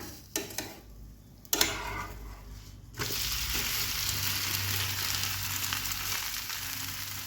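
Neer dosa sizzling on a hot pan while it is rubbed with a little oil and flipped, with a few sharp clatters early on, then a steady loud hiss of frying continuing without talk.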